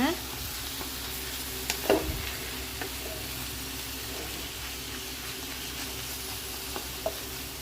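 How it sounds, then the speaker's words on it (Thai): Stir-frying northern Thai young jackfruit salad in a pan, a continuous close sizzle with occasional scraping stirs of a utensil and small clinks over the steady hiss. "เดี๋ยวผัดให้หอมเลยนะ"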